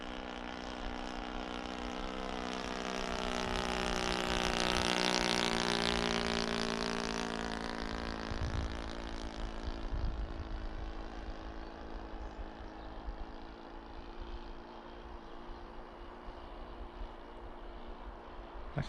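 A model Tiger Moth biplane with a 0.65 nitro four-stroke engine in flight, its steady, buzzing drone rising as it passes and then holding at a moderate distance, with no talk over it.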